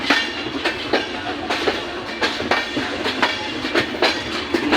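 Drutojan Express passenger train pulling out of Natore station in Bangladesh, running about eight hours late; steady rolling rumble with rhythmic clickety-clack of wheels over rail joints, fairly close and continuous, no voices.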